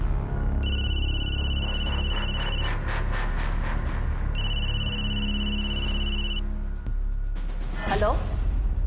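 A mobile phone rings in two repeated bursts of electronic tones, clear and close over a steady low background hum, followed by a brief swish.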